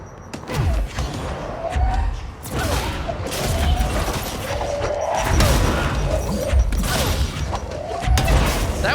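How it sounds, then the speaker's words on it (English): A barrage of grenade explosions in the game Control, with repeated heavy booms and crashes rolling over one another in a dense, loud, sustained onslaught. "That's a lot of grenades!"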